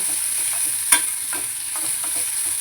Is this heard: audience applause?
no